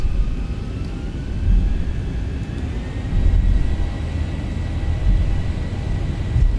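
A Zibo Boeing 737 jet takes off in the X-Plane 12 flight simulator, a steady loud engine roar and rumble with a faint high whine, continuous and close, with nobody talking.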